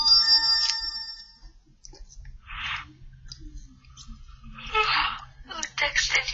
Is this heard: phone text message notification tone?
yes